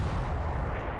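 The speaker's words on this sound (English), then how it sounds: "Takes a second torpedo." A torpedo hit exploding in the naval war game War in the Pacific: Admiral's Edition, a dense, heavy rumbling blast filling the whole second at steady loudness, no voices.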